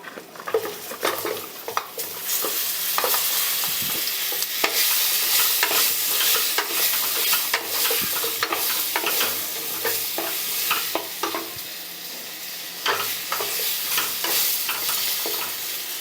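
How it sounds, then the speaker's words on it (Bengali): Pointed gourd and other vegetables frying in a pan for a Rath Yatra offering, a steady loud sizzle broken by repeated scraping stirs and clinks of a spatula against metal, close and continuous with no talk. "এবার আমি সবজিগুলো দিয়ে দিচ্ছি প্রথমে দিয়ে দিচ্ছি পটল"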